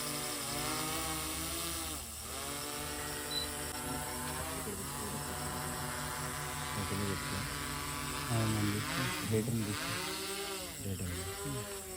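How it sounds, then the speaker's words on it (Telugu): A forest department's thermal drone flies during a night search for a missing girl near Tuni and Payakaraopeta. Its motors give a steady, droning electric buzz that holds for the whole stretch, with voices talking over it now and then. "ఇదైతే థర్మల్ డ్రోన్ అండి."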